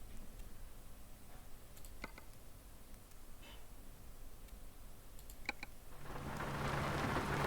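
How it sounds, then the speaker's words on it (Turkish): Rain and thunder from American Truck Simulator make a steady hiss of falling rain broken by scattered clicking drops, with the rain noise swelling louder near the end. "Biz giderken o yağmur duracak inşallah."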